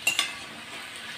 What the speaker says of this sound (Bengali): এবার এইগুলোকে লাল লাল করে ভাজতে হবে, হলুদ আর নুন দিতে হবে,